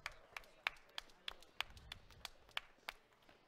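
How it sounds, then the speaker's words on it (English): At a St Paul Curling Club Big Spiel gathering, sparse handclaps land in a slow, steady rhythm, each sharp and fairly faint, over soft background murmur. "round of applause for the Piper man"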